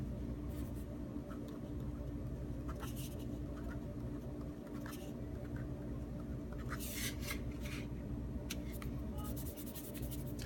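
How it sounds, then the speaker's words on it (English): A pen scratches across the slightly textured paper of a Baron Fig Vanguard notebook in short, soft bursts of scraping, close but quiet over a low background hum. "It's a slight texture to the paper. I will write on it."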